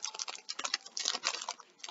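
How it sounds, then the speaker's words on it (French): A cat scratches inside a cardboard box, light and rapid scratching and scraping close by, in quick irregular bursts. "Vous entendez du bruit, c'est le chat qui gratte dans le carton."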